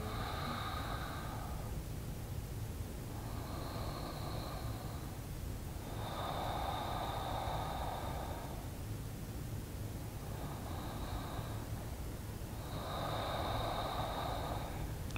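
Slow, steady breaths in a beginner yoga session, each long breath rising and fading in turn, about five over the stretch, airy and close against a constant low hum, with no talking.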